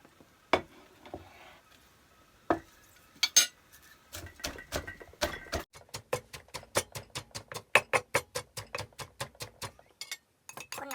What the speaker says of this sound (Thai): ตำถั่วก่อนเนาะ